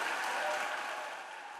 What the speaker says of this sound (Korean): 상원에서는 환호와 박수가 터져나왔고